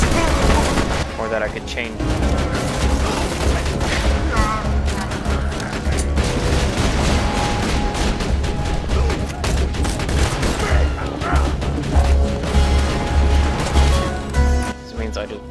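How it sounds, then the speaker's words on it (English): Burst-fire sniper rifle shots in Borderlands 2, dense repeated gunfire volleys running the whole time alongside game effects, with someone talking over them. "I really wish my sniper rifle wasn't fucking burst fire."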